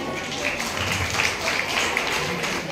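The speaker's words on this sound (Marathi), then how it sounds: "जोरदार टाळ्या" Audience applause at a Marathi community prize-giving ceremony with haldi-kumkum and lucky draw, a steady crowd clapping throughout the short stretch, moderately loud and dense, with voices mixed in beneath.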